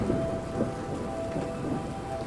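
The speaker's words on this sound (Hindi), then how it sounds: "बाहर तेज आंधी चलना शुरू हो गई और थोड़ी देर में बहुत तेज बारिश भी शुरू हो गई" Very heavy rain pours in a dense, unbroken roar while low thunder rumbles underneath, loud and close throughout the short stretch, with no speech.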